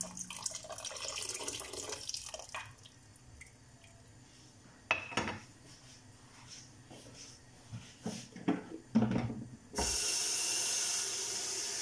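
Tap water runs and splashes into a pot while preparing papaitan, with scattered clinks and trickles before a sudden loud steady gush near the end, close by with no talk.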